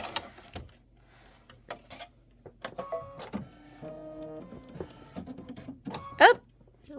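An embroidery machine sews the large flower-to-stamen detail of a quilt block in spice brown thread, giving a run of soft mechanical clicks and whirring stitch tones, ending in a louder rattling burst.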